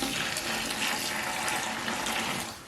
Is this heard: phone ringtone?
no